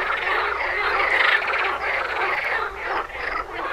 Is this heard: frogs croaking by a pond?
yes